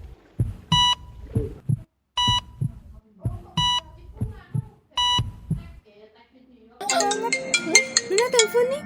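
A mobile phone ringtone plays, repeated bright beeping bursts in a regular rhythm, followed by a busier melodic tone pattern near the end.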